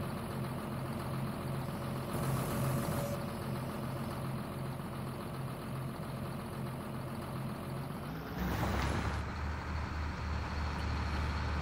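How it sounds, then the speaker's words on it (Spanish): A tractor engine runs steadily in a field, a low even mid-pitched drone that shifts to a deeper, louder tone near the end, with no voices. "Tengo ganas de probar este tractor."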